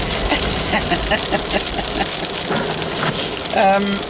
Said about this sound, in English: it's really raining today